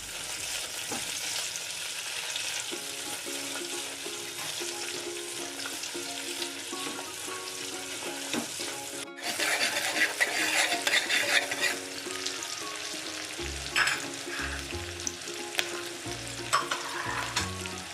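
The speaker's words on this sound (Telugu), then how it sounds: "మిరపకాయలు, ఆవాలు అన్నీ వేసుకుని పచ్చివాసన పోయే వరకు కాసేపు వేయించుకోండి." Green chilies, dried red chilies and mustard seeds fry in a pan for temple-style pongal, giving a dense, continuous sizzle with crackling and stirring scrapes. It swells louder partway through and stays close, with no voices.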